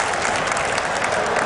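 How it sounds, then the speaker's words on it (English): Dense crowd applause fills a StarCraft WCS quarter-final venue, a steady wash of clapping from many hands at close range that continues throughout without letup. "give him a big round of applause for that"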